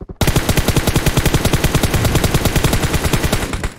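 Rapid automatic gunfire in the PUBG Mobile video game, a loud, sustained burst of evenly spaced shots lasting several seconds.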